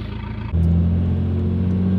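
A car engine with a lope tune kicks in after a brief lower passage, settling into a loud, close, steady rumbling idle with a choppy uneven pulse and no talking.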